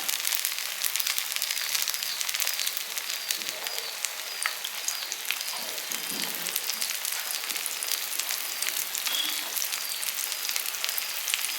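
Sago paniyaram fry in oil with a dense, steady crackle that holds evenly throughout at moderate volume.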